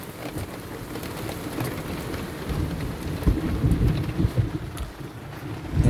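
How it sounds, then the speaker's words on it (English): Heavy rain pouring outside, a dense steady hiss of downpour with bursts of heavier drumming and low rumbling swells, close and constant with no voices. "it's really, really chucking it down out there"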